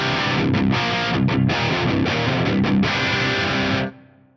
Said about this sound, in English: This is a dry rhythm sound.